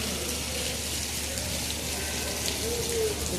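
Steady, dense heavy rain pours down continuously at a cricket match, a broad wash of drumming drops close by with no pause.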